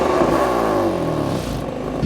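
A 2015 BMW M4 Coupe engine pulls hard under acceleration, a loud rising growl with climbing tone, close up and with no talking over it.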